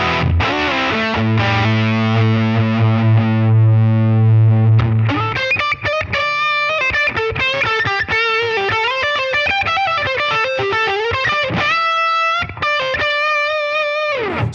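Distorted electric guitar playing through a Line 6 Helix/HX Stomp amp modeler, starting with sustained heavy chords and moving into busy, effected lead riffs, loud and up close.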